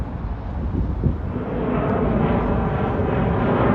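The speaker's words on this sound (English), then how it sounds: "It's an American Airbus 319 to DFW." An American Airlines Airbus 319 passes overhead at Dorval, Quebec, its engines a steady broadband roar that swells slightly and holds loud through the clip, with no voices.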